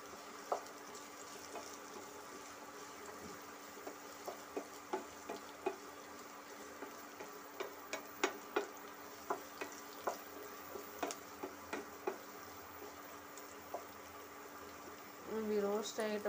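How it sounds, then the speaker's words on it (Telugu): Drumstick (moringa) pieces roasting in a pan for a tomato curry, with a steady low sizzle and a series of sharp clinks and scrapes from stirring, closing in a brief louder burst near the end. "ములక్కాయ ముక్కలు ఇట్లా రోస్ట్ చేసేసుకోవాలి."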